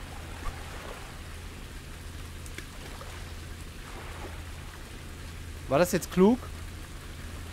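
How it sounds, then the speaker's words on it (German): Steady rain falls in the fishing video game Ultimate Fishing Simulator, a soft continuous hiss under the whole stretch, with someone speaking briefly near the end. "Alter, jetzt fängt es auch noch an zu regnen."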